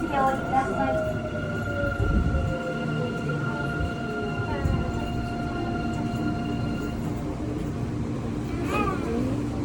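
A subway train in Busan, South Korea rumbles along with sustained tonal whines and squealing wheel screeches, a few voices faintly underneath, the noise steady and enclosed.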